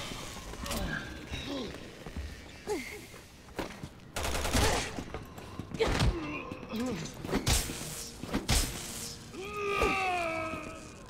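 Gunfire erupts in the Resident Evil 6 video game: scattered bursts of sharp shots and thuds come at an uneven pace, with voices talking in between.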